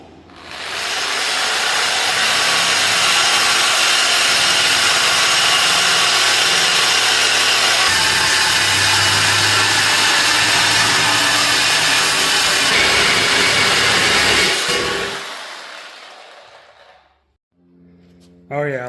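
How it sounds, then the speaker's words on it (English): A saw cuts through a 5-inch MBRP exhaust pipe on a Duramax diesel, a loud continuous grinding rasp lasting about fifteen seconds before stopping abruptly. "I'm going to cut this to fit. We'll see how it goes. I only have one blade."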